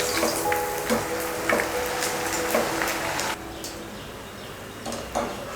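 Leftover cooked rice snacks deep frying in hot oil, a steady close sizzle and bubbling that softens partway through as the boiling settles, with a few light clinks of a utensil.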